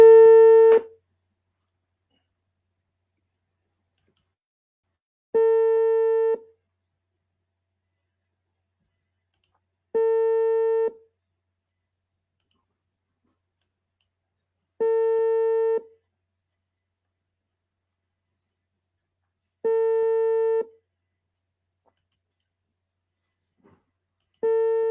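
A telephone line gives a steady repeating tone: five evenly spaced beeps, each about a second long and separated by long silences, clear and close with no voices.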